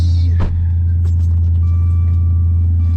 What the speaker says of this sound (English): I know this video's a little loud because I hear the rumbling of the engine